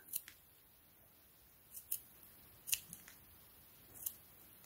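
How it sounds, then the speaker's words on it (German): Several crisp scissor snips trimming leftover macrame threads on a bead closure, about five short cuts spaced irregularly and heard close up against a quiet background. "Dann schneide ich diese übrigen Fäden ab"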